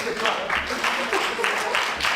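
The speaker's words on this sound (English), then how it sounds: "let's give a round of applause to the panel as they come" Applause from a conference audience greeting a panel at a sickle cell and hemophilia meeting, a steady broadband patter of clapping that swells in rhythmic waves across the whole stretch, with faint voices mixed in.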